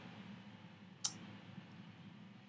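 A single sharp computer mouse click, loud and close, stands out against a low steady room hum, followed by a fainter tick.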